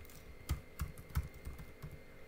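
A password typed on a computer keyboard in Git Bash, heard as a faint, quick run of soft key taps at a steady pace, quiet and close.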